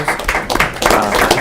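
Scattered clapping from a modest group at a chamber of commerce breakfast, uneven and fairly close, with a few louder claps and faint voices mixed in.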